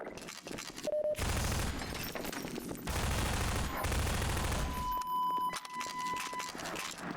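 Automatic weapon in the video game Half-Life 2 fires in rapid, sustained bursts, two long loud volleys separated by a short pause, followed by quieter in-game ambience.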